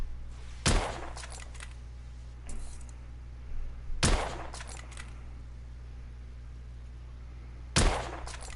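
Three sharp gunshots from a gun in the video game The Order: 1886 ring out alone at spaced intervals, each a loud crack with a short tail, over a low steady background hum.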